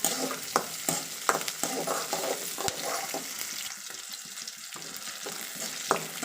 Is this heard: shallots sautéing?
yes